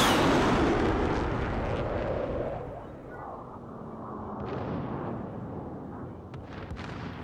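Gunfire in Call of Duty: Warzone, a heavy, booming burst at the start that fades into rumbling, echoing shots and scattered pops.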